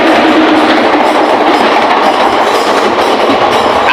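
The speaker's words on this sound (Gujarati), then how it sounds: "દેશમાંથી ટ્રેન આવી આયા," A train pulling into the station gives a loud, continuous rolling rumble and clatter of wagons on rails, sustained close and even without pause.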